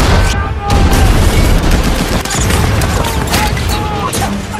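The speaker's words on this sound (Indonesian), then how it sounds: "para tentara Nazi yang tidak menyangka hal itu pun mulai berlarian ke sana kemari dengan riang gembira sambil ditembaki oleh senapan mesin dan juga meriam oleh Don dan timnya" Machine gun and cannon fire from a World War II tank battle scene, dense and loud, with rapid bursts and heavy booms overlapping in a constant barrage.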